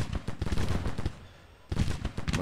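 Repeated artillery and cannon fire from a Grand Tactician: The Civil War battle: dense, loud volleys of booming shots in rapid succession, a brief lull near the middle, then more firing resuming.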